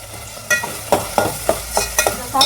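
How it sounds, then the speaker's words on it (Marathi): Whole spices in hot oil on a home stove, a close sizzle punctuated by six or seven sharp scraping stirs spaced at a steady rhythm, no talking. "मी खडे मसाले पण टाकलेले तेला"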